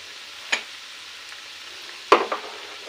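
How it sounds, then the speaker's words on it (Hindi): Gathiya namkeen, crisp rice-flour strands, fry in hot oil over a quiet, faint bubbling hiss, punctuated by a few sharp clinks and scrapes of a utensil against the pan. "गाठिया नमकीन को इस तरीके से डाल के और इसे अच्छे तरीके से अब फ्राई होने दीजिए"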